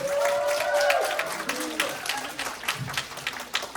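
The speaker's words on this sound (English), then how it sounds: "Put your hands together for Mr. Christopher Kim, National Director." An audience at a K-beauty business presentation claps for national director Christopher Kim, a thick burst of applause rising under a cheering voice and then thinning into scattered claps.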